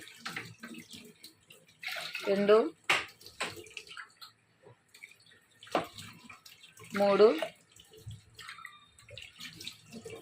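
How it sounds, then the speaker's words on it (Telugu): Water pours in two short splashing bursts into a pressure cooker of toor dal, separated by pauses, with a person talking in between. "3 గ్లాసులన్నర వాటర్ పోస్తున్నాను"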